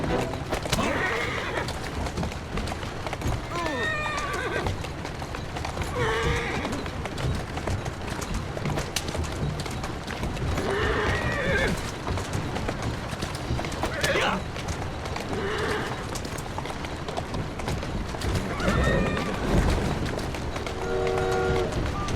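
Horses in the video game Assassin's Creed Syndicate neigh repeatedly in loud, wavering whinnies over a steady clatter of hooves and carriage noise, with a person talking now and then.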